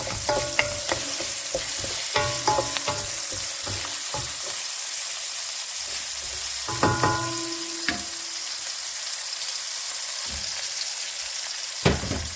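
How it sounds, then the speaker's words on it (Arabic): Chopped onion frying in a pan, with steady close sizzling throughout and intermittent scraping and clinking as it is stirred, no voices. "غير نشحر شويه البصله"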